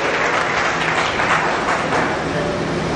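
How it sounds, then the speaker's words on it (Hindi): A loud, dense burst of applause rises from the audience at a party workers' meeting, sustained and close throughout. "आप तालियां बजा रहे हैं, ये मन से है"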